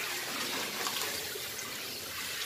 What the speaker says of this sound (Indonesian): kita masukin airnya